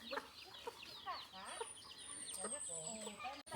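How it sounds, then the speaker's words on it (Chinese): Free-range chickens in a remote ethnic-minority mountain village on Jingmai Mountain near the Myanmar border cluck continuously, with several birds overlapping at moderate distance. "小鸡"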